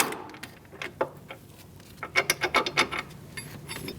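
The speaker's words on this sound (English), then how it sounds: "I use my wrench, 22mm as well, to hold that still." A 22mm wrench works a brake bolt nut on a 2002-2006 Toyota Camry front brake, giving a few scattered metallic clicks, then a quick close run of ratcheting clacks and a faint clink.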